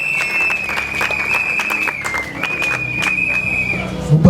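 A room of guests claps steadily through a civil wedding ceremony, a dense patter of hands with a thin sustained tone running across it and a voice briefly audible near the end.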